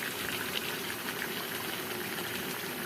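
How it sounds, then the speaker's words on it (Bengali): Washed chicken pieces go into a hot pot, giving a steady bubbling, sizzling wash of liquid and steam sound at moderate level, with no talking. "এই চিকেনটা এখন আমি আস্তে করে ঢেলে দিব"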